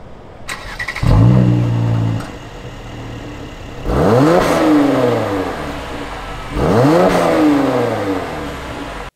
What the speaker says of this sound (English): here's a startup of the engine relatively warm in comfort mode with the valves closed